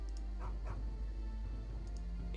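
Short yips and barks from a K9 scout dog unit in the strategy game Empire Earth, a few quick calls over a steady low game hum.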